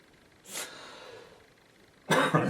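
A person coughs twice, a short sharp cough followed a moment later by a louder, harsher one, close to the microphone in a quiet room.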